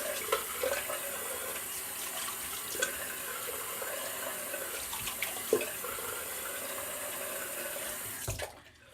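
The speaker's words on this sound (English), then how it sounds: "So now we'll quickly rinse off." Steady running tap water splashes into a sink as a shaving razor is rinsed under it, a continuous close wash of water with a few brief knocks before it cuts off near the end.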